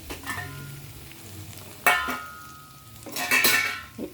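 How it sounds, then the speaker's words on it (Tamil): Chicken frying in a pan is stirred with a utensil, giving a few distinct scraping clatters of metal on the pan over a soft, quiet background sizzle. "அப்படியே கிளறி விட்டு கொஞ்சம் நல்லா வதங்கட்டும்."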